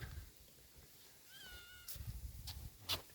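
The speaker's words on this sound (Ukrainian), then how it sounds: "Так, киця жде." A cat meows several times, faint and somewhat distant, the calls rising and falling over quiet outdoor background noise near a fishing spot.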